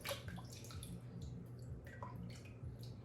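Water is poured over a potted jade plant and its leaves, a soft, faint, continuous trickle and splash with small drips, heard close up without talk.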